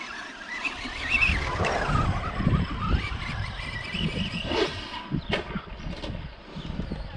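A Traxxas RC short course car brakes hard, its tires scrubbing and squealing briefly amid a steady buzzing motor whine and surrounding outdoor noise, with sharp scraping bursts toward the end.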